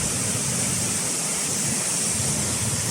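Kwang Falls waterfall on Camiguin island, a steady, dense rushing roar of falling water, close and loud, with no voices.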